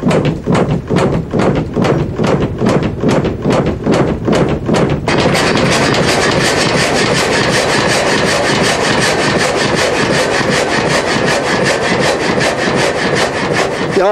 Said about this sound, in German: So wie die Schwarte, die er, Johann Piazzi, jetzt als erstes absägt